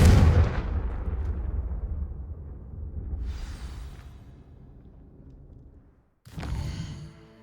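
A Confringo fire spell blast in Hogwarts Legacy bursts with a heavy boom that rumbles and fades, a softer whoosh in the middle, then a second sharp blast near the end.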